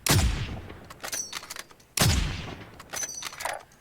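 Gunfire in the Warzone video game: two heavy booming shots with rumbling tails, each followed by rattling bursts and debris clatter, loud and close with no talk.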